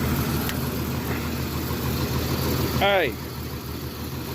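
A Jeep Comanche engine idles with an uneven, misfiring rumble, steady and close; someone briefly speaks and a squeaky chirp cuts through near the end.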